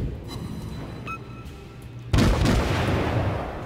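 A single loud naval artillery boom from World of Warships erupts after a quiet stretch, its rumble trailing off into a sustained roar.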